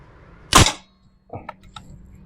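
An air rifle fires a single 15-grain slug with a sharp, close crack, followed moments later by a few faint metallic clicks and taps.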